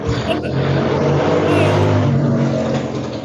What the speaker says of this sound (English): that was a loud bike